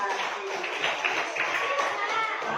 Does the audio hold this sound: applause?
yes